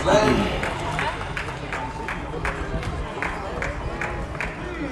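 Crowd at an Australia vs England jousting tournament, a steady wash of clapping and cheering with rhythmic claps running throughout, moderately loud and close, mixed with general crowd babble.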